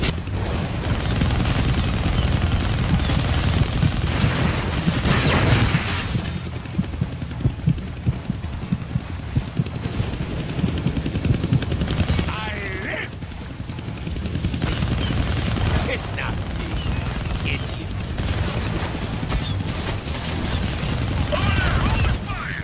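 Helicopter rotor throbbing mixed with bursts of gunfire in the Deadpool video game on Xbox One, a loud steady chopper drone with rattling fire, crashes, and characters talking over it.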